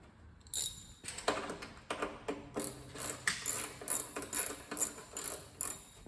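A ratchet wrench clicks in quick, repeated bursts, close and fairly quiet, while 10 mm bolts are backed off a Kawasaki Vulcan 800 motorcycle in a workshop. Small metallic clinks come between the strokes.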